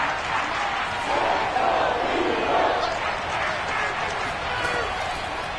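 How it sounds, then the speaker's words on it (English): A football stadium crowd roars before a big third down, a loud, dense wash of cheering and shouting that swells slightly midway and stays steady to the end. "The crowd getting into it as we come up on a big 3rd down."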